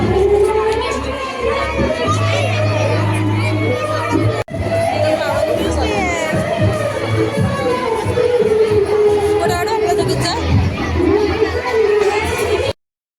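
A crowd gathers around a food stall at a school Children's Day event, with continuous loud chatter and children's voices. Someone talks close by over the babble.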